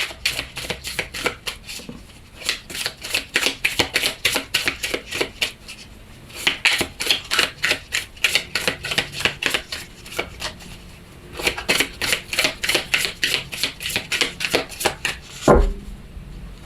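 Tarot cards are shuffled by hand in quick repeated bursts of crisp riffling flutter, pausing briefly between rounds and ending with a soft thump as the deck is set down, close and clear with no talking.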